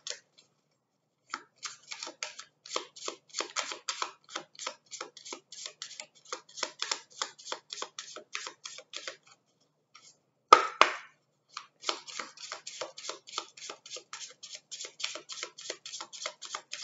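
Quiet, rapid riffling and soft flicking of a Venezia cartomancy card deck being shuffled, a steady run of light papery ticks with a brief pause and one louder snap midway, close and alone.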